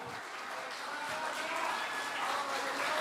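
Applause at an Indonesian PDI Perjuangan party event as Airin Rachmi Diany of Banten stands, a continuous soft roar of clapping in a large hall that swells slightly toward the end, with crowd murmur mixed in.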